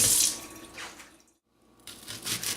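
A kitchen knife is rinsed under a running tap, the water splashing close and loud, cutting off briefly for a silent moment, then gushing again.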